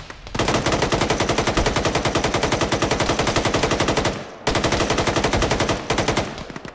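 Rapid sustained machine gun bursts fire in a military shooter game, two long loud streams of fire with brief pauses between, close and alone.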